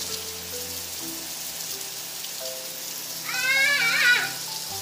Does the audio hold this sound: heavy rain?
yes